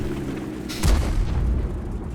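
A tank cannon firing in World of Tanks, one deep booming shot partway through followed by a low rumbling tail over a steady engine hum.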